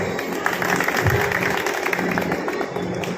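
An audience claps at a school alumni reunion in Dhule. The applause is a dense, steady patter that fills the room throughout, with some voices faintly mixed in.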